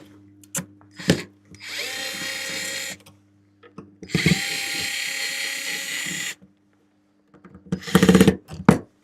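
Electric screwdriver removing screws from an electronics circuit board, two loud whirring bursts of a couple of seconds each, then a shorter one, with clicks and a low hum between.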